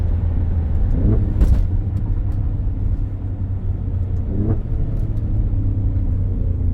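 Alfa Romeo Stelvio Quadrifoglio engine, a loud, steady deep rumble heard close up, with brief rises around the middle, and no voices over it.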